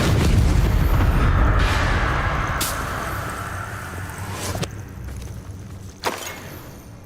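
A Confringo spell explosion from Hogwarts Legacy hits with a loud, heavy boom that rumbles and slowly fades, followed by a few sharper impact cracks.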